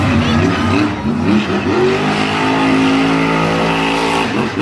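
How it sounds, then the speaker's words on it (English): Gravedigger monster truck at a Monster Jam event in Salinas, its engine revving hard and loud throughout, with shifting pitch as the throttle is worked and no pause. "Tyler Menninga is giving that throttle some real hard leverage right now"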